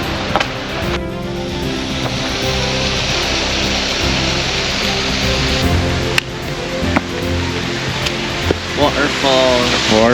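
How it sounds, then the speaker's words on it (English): Waterfall beside a hiking trail at Minnewaska, with water spilling out from beneath a rock ledge; a steady, loud, broadband rush fills the whole clip, and a voice briefly speaks over it near the end. "Waterfall. Waterfall."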